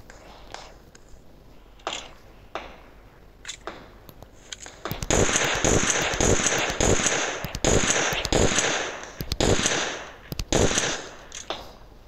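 Gunfire in the PUBG Mobile arcade mode: a few scattered, sharp shots, then a loud, dense run of rapid cracking fire that keeps going with short breaks.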